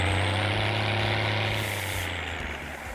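Steady tractor engine running in the farming game Landwirtschafts-Simulator 19, a continuous low droning rumble with a constant pitch, close and alone, fading slightly toward the end.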